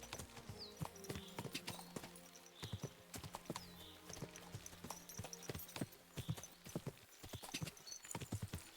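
Horse hooves clip-clop in a steady trotting rhythm, close and distinct, over a faint low hum, in the video game Kingdom Come: Deliverance II.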